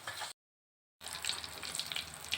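Dried badel fish frying in oil on a home stove, a bright crackling sizzle that breaks off briefly and then returns steadily and close with popping spatters.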